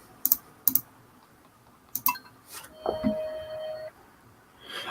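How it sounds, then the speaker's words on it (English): Rapid computer clicking in the background: a few sharp isolated clicks, then a scatter of lighter taps. A thin electronic tone from the computer sounds briefly partway through. "Ignore my furious clicking in the background."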